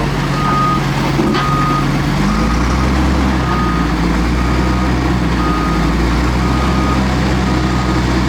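A CAT D6 bulldozer reverses with its blade drifting over muddy ground, a steady low diesel rumble running throughout with reversing beeps sounding near and loud over it, and no talk.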